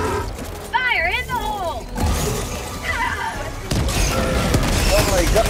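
Airstrike explosions and gunfire in Helldivers 2, with crashing blasts and bursts of shooting under excited shouting voices throughout.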